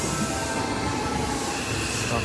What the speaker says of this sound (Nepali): यहाँ ट्रेन आइसक्यो